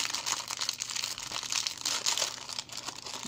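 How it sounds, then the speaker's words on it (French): A small plastic bag of beads being crinkled and handled up close at a crafting table, soft irregular rustling and crackling that continues throughout at low volume with no talking. "je remets mon petit sac de perles comme il était"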